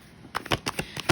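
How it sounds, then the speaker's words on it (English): A deck of tarot cards is shuffled in a quick run of crisp, papery riffles lasting about a second, close and fairly loud. "let me shuffle these cards"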